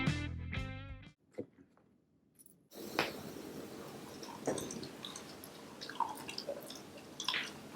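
Crunchy bites into a crisp homemade deep-fried french fry, a few close, wet chewing crackles after a brief silence, then steady mastication up close with no talking.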